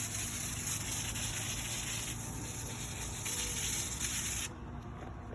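A steady hiss of a spray bottle misting plant leaves with homemade pest spray runs continuously for several seconds, then drops off sharply near the end.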